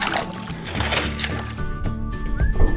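Toy sea craft plunge into water and make sloshing and gurgling splashes that come in uneven bursts over a constant watery background, close and fairly loud.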